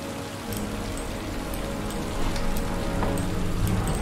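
Steady rain patters on a surface, a dense continuous hiss with scattered droplet taps, close by and fairly loud, with no voices.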